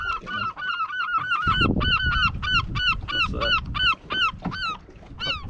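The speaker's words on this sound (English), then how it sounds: "I think that's a seagull round of applause" A seagull near a fishing boat gives a long run of loud, close, repeated honking calls in a quick, uneven rhythm over a low rumble of wind or engine.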